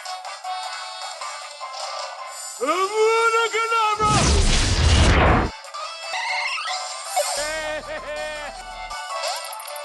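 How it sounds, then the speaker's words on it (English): A loud burst of video-game laser fire, a dense roaring blast lasting over a second, framed by warbling synthetic chirps and electronic tones, with a voice speaking through parts of it. "I'm a firing my laser!"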